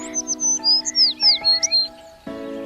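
A small songbird, likely a sparrow, gives a quick run of high, bright chirps and tweets, close and clear, over a steady tonal backing hum.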